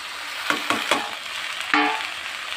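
Broad beans (bakla) and chopped potatoes fry in a pan, giving a steady hiss of sizzling with several sharp scraping strokes of stirring, three close together and one more a moment later.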